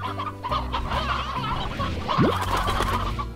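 Briar Hens from the Slime Rancher video game cluck in a steady stream of chicken-like calls, with one sharp rising squawk partway through, over a constant background hum of game music.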